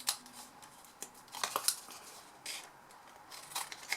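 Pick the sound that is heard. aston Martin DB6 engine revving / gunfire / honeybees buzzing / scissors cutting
scissors cutting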